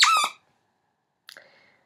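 A creepy-looking Lamb Chop puppet toy squeaks twice, a loud high squeal followed after a pause by a shorter, fainter squeak, with no talking.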